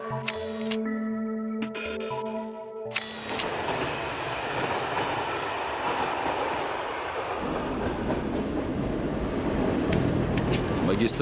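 An expedition train rolls along the Northern Railway in the Komi region, carriages clattering and rumbling steadily after a brief burst of other sound at the start, gradually growing louder.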